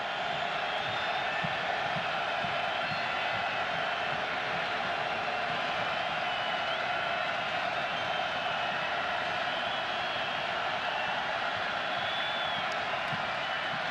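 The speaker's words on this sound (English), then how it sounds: "Here comes the crowd." Stadium crowd noise swells steadily at a college football game between South Florida and Connecticut, a broad continuous roar of cheering held at a distance throughout.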